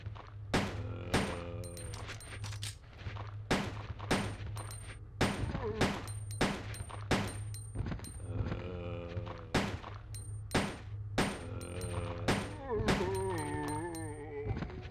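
Handgun fire in Resident Evil 2: a rapid series of sharp, loud gunshots, about fifteen over the stretch, irregularly spaced with short echoing tails over a low background hum.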